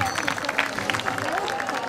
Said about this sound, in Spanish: Pachi Soria Sola, un buen aplauso a este equipo